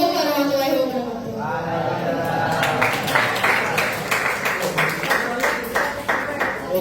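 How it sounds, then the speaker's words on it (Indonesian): Audience applause for speaker Nanda Khalid at a talk session, a patter of claps building from about halfway through and continuing under a voice speaking. "tepuk tangan yang meriah untuk Nanda Khalid"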